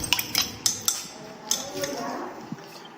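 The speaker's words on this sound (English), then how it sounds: "You will stir it to dissolve, till it dissolves." A spoon stirring urea-formaldehyde mixture in a container until it dissolves, giving irregular metallic clinks and taps against the vessel, some sharp and close, with scraping between them.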